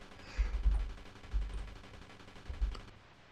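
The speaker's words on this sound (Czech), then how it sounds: "A teď výbuch." Explosions in the Amiga shooter Skyblaster: three short bursts of crackling blasts, each followed by a fading rumble, loud and close with no talking.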